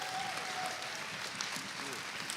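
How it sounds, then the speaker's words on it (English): Audience applause at a high school Christmas concert, a steady wash of clapping from a crowd with some talk over it. "So a round of applause for B Sharp parents."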